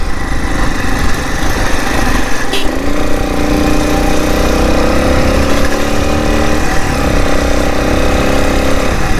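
A Bajaj Pulsar 220 motorcycle engine runs loud and steady on a city ride, its pitch sweeping up as it revs, with constant wind and road rumble throughout.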